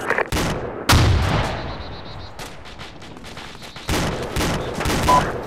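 Gunfire in a military tactical shooter game in a town street: loud close bursts and single shots, a lull with rapid distant machine-gun fire, then more sharp reports.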